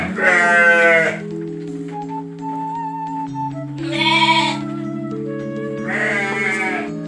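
Sheep in a pen at a farm bleat loudly and near, three distinct drawn-out calls separated by short pauses, with a steady hum in the background.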